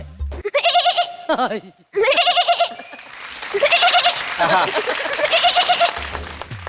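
A young boy on a comedy stage imitates a lamb with a series of quavering bleats, close and loud, followed by a burst of crowd laughter and cheering.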